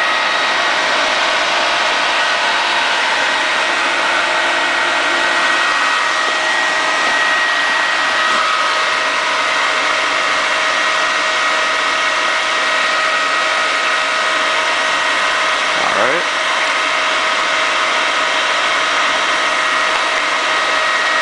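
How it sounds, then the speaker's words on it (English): An ACE FMC200 pump run in reverse as a water turbine driving a DC 540 alternator, a loud steady whirring drone with constant tonal whine that does not change throughout, no talking. "This is a ACE pump, model is FMC200. I'm using this as the PAT method, pump as turbine."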